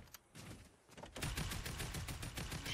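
Gunfire in a pirate-themed shooter video game, heard as a faint single shot followed by a sustained rapid burst of automatic fire that continues steadily to the end, with no voices.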